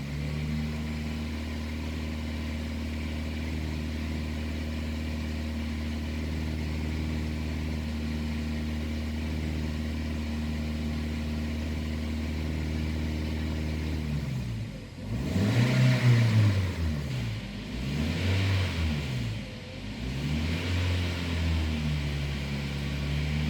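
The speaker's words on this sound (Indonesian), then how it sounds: "Ini saya gas-gas pada RPM 2000." A Toyota Avanza engine idles with a steady hum, then is revved to around 2000 RPM in three rising and falling surges, close and fairly loud.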